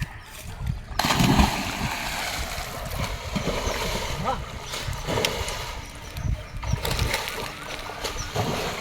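People bathing and splashing in fresh water in a village in Palakkad, with continuous sloshing and splashes throughout, a louder burst near the start, and voices faintly mixed in.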